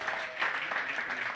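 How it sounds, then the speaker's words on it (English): Brief, fairly quiet round of audience applause for panelists at a club tour event, a soft, dense patter of clapping heard from some distance. "Can we please give them one more round of applause,"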